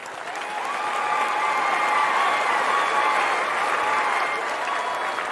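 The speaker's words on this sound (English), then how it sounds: "Can we give Avi a big round of applause?" An audience applauds at a virtual-stage talk on the metaverse, sustained dense clapping that swells quickly and holds steady for several seconds, with crowd noise mixed in.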